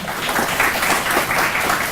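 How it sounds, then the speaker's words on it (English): Steady applause from an audience at a university entrepreneurship summit panel, a dense continuous wash of many hands clapping at an even, moderate level. "I would like you all to have a huge round of applause for our esteemed panelists."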